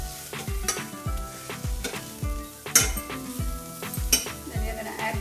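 Spices including coriander powder, garam masala and salt frying in a pan for keema, with steady sizzling under a regular rhythm of a utensil scraping and stirring, close and fairly soft.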